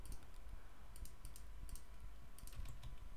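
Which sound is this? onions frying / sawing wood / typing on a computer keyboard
typing on a computer keyboard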